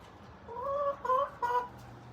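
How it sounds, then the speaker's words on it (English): Chickens kept in New Mexico clucking close by, a few drawn-out tonal clucks and squawks in quick succession against a quiet yard. "and lots of chickens"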